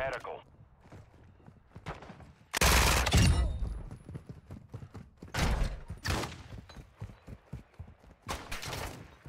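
Gunfire in the video game Call of Duty DMZ rattles in loud bursts, with a long sustained volley followed by shorter shots and clatter, over game sounds while a player talks.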